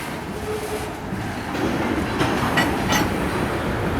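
A slow, heavy CSX westbound mixed freight train rolls past close by, a steady rumble with rhythmic wheel clacks and faint squeals throughout.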